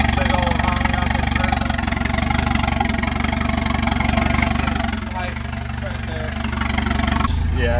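Turbocharged station wagon running on Microsquirt standalone engine management, idling steadily with a dense, continuous engine rumble close by, the pitch dipping briefly before settling back; people talk over it throughout.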